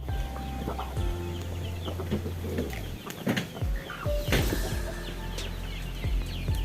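Chickens cluck and a rooster calls in a village farmyard in Kampung Cikadu, Ciamis, with repeated clucks over a steady low engine-like hum and some wing flaps.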